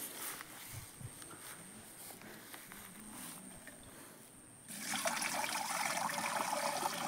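Water is poured into a 16 litre pesticide sprayer tank, faint trickling and splashing at first, then a louder, steady rush of water filling the tank, with no speech.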